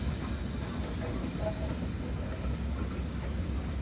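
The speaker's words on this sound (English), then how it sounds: "Another train is coming in, viewers, this time with some carriages on it." A low, steady rumble of a train with carriages arriving at a station rolls along continuously, a dull mechanical drone with faint background noise.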